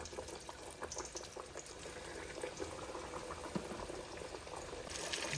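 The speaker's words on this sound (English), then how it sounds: "We're gonna just let these fry for a few minutes." Pork chops deep frying in a deep fryer, a steady bubbling, crackling hiss of hot oil that runs continuously and grows slightly louder toward the end. No voices are heard.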